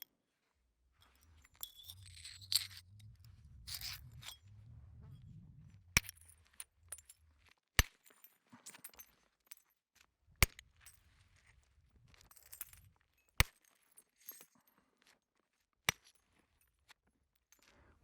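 Obsidian is pressure flaked into a biface, giving sharp glassy clicks and snaps spaced a second or two apart, with some earlier scraping and rubbing between the cracks.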